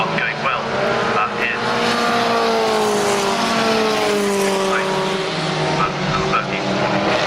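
Historic Formula Ford 2000 race cars, including a Lola T580 and a Royale RP30, battle through a bend at Brands Hatch. Engines rise and fall in pitch as they pass, tyres squeal, and a commentator talks over the noise.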